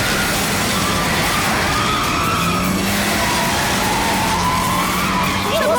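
A car skids out of control, a loud continuous tire-and-engine roar with rising and falling squeal sweeps across the whole stretch, with shouting voices mixed in beneath.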